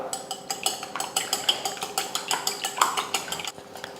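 Eggs with turmeric powder and salt are beaten briskly in a bowl, a fast, steady run of close, sharp clinks and scrapes that repeats for several seconds without talk.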